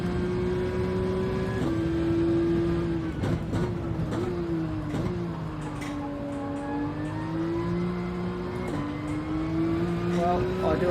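A Porsche GT3 race car engine in a racing video game on the Nürburgring Nordschleife drones steadily throughout, its pitch rising and dropping with gear changes, loud and close under a talking voice.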